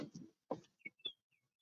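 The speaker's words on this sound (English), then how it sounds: "The chickens, the birds chirping." Faint chirps from birds and chickens outside come in a few short, scattered calls, quiet and somewhat distant.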